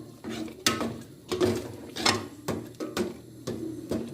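Spoon scraping and knocking around a pot of moong and masoor dal in an irregular rhythm of stirring, close by, with no talking.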